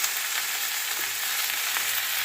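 Semolina with salt and turmeric frying in a pan for vegetarian upma, a dense, even hiss of sizzling with faint stirring scrapes, loud and close throughout with no talking.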